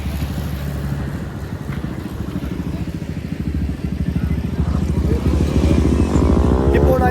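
A motorcycle fitted with an Akrapovic exhaust runs close by with a rapid, steady exhaust pulse that builds in loudness and pitch as the throttle opens, rising toward the end.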